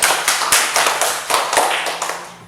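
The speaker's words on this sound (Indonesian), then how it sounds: "Tepuk tangan dulu." A classroom of students claps in short rhythmic bursts after a group presentation. The strokes are crisp and close, grouped roughly every half second, and the applause fades toward the end.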